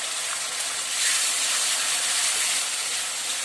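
Tomato puree poured into a hot pan sets off a loud, continuous bright hiss and sizzle that swells slightly midway and holds steady to the end.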